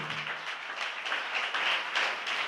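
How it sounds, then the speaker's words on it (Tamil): Congregation in a church clapping hands together, a steady dense patter of many hands, moderately loud and sustained without talk. "இவ்வளவுதானா உங்க கைத்தட்டு?"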